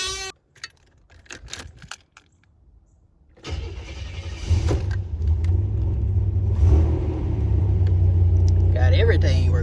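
Buick Grand National engine cranking and starting after a few clicks and a voice, then settling into a loud, steady close rumbling idle with slight revving as people talk.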